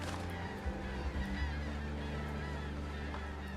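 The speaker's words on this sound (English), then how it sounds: "the birds are so noisy over there" Geese honk noisily in a pirate-ship video game, with several overlapping calls close together in a dense, continuous chorus.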